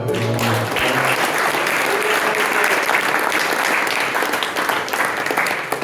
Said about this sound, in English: Please give Abhay a big round of applause.